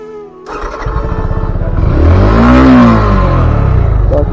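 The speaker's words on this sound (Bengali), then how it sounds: "বাইকটাকে করে কোল্ড স্টার্ট।" A rain-soaked motorcycle cold-starts with a sudden crank, then its engine catches and climbs into a loud, rising rev before settling into a steady, close idle.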